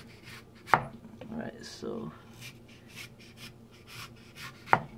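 A knife slices lotus root into fairly thick pieces, two sharp chops about four seconds apart with quieter scraping between them, while a person speaks.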